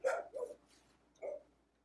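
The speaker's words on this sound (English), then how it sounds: "she's gonna bark through the whole thing like she did last week" A dog barking outside: three short, fairly distant barks with a pause before the last, heard alone against a quiet background.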